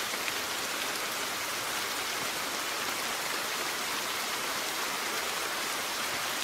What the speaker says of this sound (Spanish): O sea que llueve mucho.